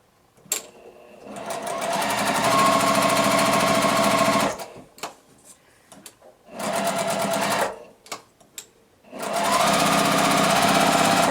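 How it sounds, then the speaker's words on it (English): Sewing machine stitching quilt blocks corner to corner along a drawn line, running in three loud sustained bursts of rapid, even needle chatter separated by brief pauses with small clicks. "I'm just going to again sew on from corner to corner on directly"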